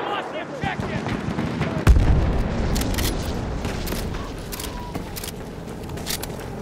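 Machine gun fire rattles in a Battlefield 1 battle, bursts of shots with a heavy boom early on, set against constant battlefield noise and someone shouting over it.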